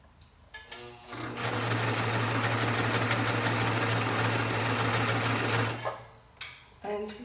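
A cover stitch sewing machine runs steadily for about five seconds in one loud, continuous mechanical hum and whir, with a few short clicks and handling noises before and after.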